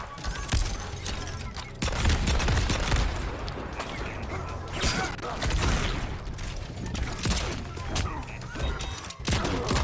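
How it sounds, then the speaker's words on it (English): Low gunshot attacks in a fighting video game at a tournament fire in rapid bursts of sharp shots and crashing hits, layered over dense crowd noise and game music, with commentary talk underneath. "Mr. 5000 is pushing him away with a low gunshot and low gunshot amplified"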